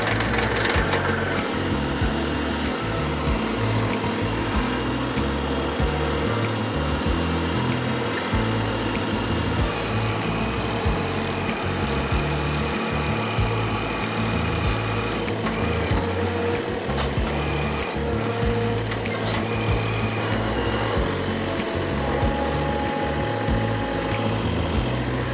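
A compact tractor's auger boring a post hole in hard clay, a steady loud engine drone with continuous grinding and rumble throughout, close by and with no talking.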